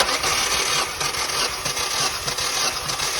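Mini engine turning over on the starter during a cylinder compression test, a steady rapid cranking churn held at a constant level without catching.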